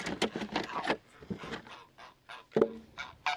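Geese and ducks kept at a large swimming pool honk and call repeatedly in close, loud bursts, several birds overlapping in an uneven run.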